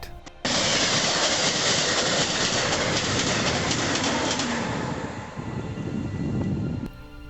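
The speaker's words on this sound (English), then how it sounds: "The train blew by and I held my breath." A train roars past through a station at close range, a loud continuous rushing rumble that starts abruptly and drops off near the end.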